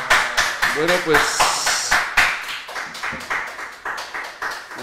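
Someone claps his hands in a steady series of sharp, close claps, about twelve over a few seconds, while a voice speaks and briefly sings alongside.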